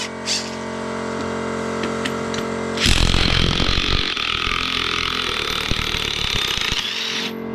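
A Parkside impact wrench, pneumatic or battery-powered, unscrews a bolt, first a steady mechanical hum and then, about three seconds in, a loud, close, rough rattling hammer that runs almost to the end before cutting off.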